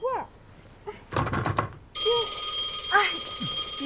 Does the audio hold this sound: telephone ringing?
yes